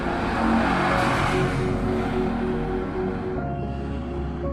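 A motorcycle roars past at speed, loud and close, with a steady engine rumble that fades slightly toward the end; no talking.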